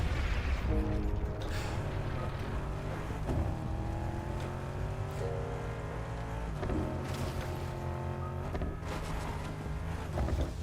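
A car engine in the video game Fortnite drives and revs, its pitch rising and falling through several surges over a low continuous rumble, heard close and without talk.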